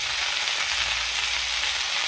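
Mixed vegetables sautéing in hot oil with bay leaf, dried chilli and panch phoron, salt just added, giving a loud, steady close-up sizzle with no pauses.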